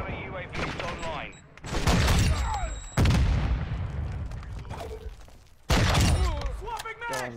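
Loud gunfire bursts and booms from a flash grenade in a Call of Duty match, with several sharp impacts around 1.6, 3 and 5.7 seconds over a busy battlefield din and occasional voices.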